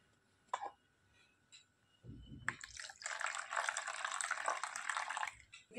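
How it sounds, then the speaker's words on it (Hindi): Lukewarm water is poured during a bath, a soft trickle and splashing that starts after a few faint drips and runs steadily to the end, fairly quiet. "एकदम ही गुनगुना पानी से नहलाती हूँ, नहीं तो मेरे लड्डू को बोल को छर्दी लग जाएगी"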